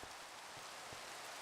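Steady hiss of rain falling in the Minecraft GTNH modpack, a soft continuous wash with faint scattered drops, quiet and alone.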